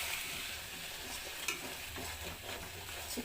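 A spice paste of salt, turmeric, cumin and coriander mixed with a little water is stirred and fried in a pan, giving a steady close sizzle with soft scraping strokes throughout and no talking.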